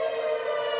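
Outdoor civil defense warning siren sounding during a severe thunderstorm warning, a loud sustained tone rich in harmonics, holding steady and alone for a brief moment.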